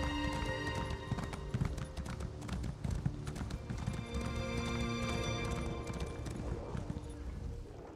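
Horse hooves clip-clopping steadily while riding in Elder Scrolls Online, a continuous dense gallop with occasional whinnies over busy in-game ambience and music.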